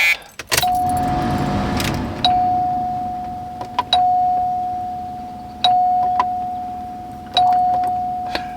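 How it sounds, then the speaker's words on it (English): A Retrosound car radio in a 1980 Cadillac DeVille switches on with a sustained electronic tone, while sharp chime-like clicks repeat every couple of seconds and fade after each one. "Retrosound radio. That makes noise."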